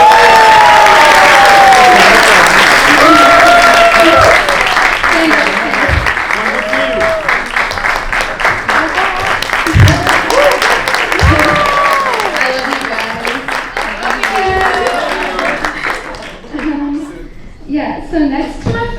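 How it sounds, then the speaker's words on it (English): An audience gives sustained, loud applause and cheering for a graduating Kathak dance class at a Manch Pravesh recital. Dense clapping mixes with shouts and calls, thinning out toward the end. "can we please get a grand round of applause for the graduating class of"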